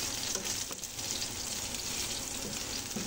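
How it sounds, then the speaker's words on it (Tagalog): Garlic, onion and ginger sauté in a pan with a steady, soft sizzle that continues evenly at close range, with no talking. "ginisa ko po yung kanyang bawang, sibuyas, luya"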